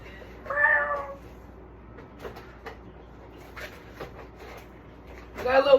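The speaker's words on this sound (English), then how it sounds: "That was just my little cat." A small pet cat meows indoors, a clear meow near the start and another louder one at the end, with quiet room noise and faint knocks between.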